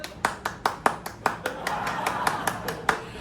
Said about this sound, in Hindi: तो सबसे पहले मैं ये ताली बजाना चाहती हूँ